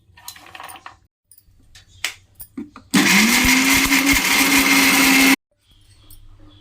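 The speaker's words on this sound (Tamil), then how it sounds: "இப்போ அரைச்சிக்கலாம்" A kitchen mixer grinder whirs loudly for about two and a half seconds as it grinds coconut for appam batter, starting and stopping abruptly after quieter handling clatter.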